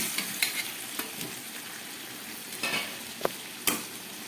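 Fried potatoes go into a sizzling pan of curd (dahi) chicken, with a steady frying hiss and a few sharp clinks and stirring scrapes close by.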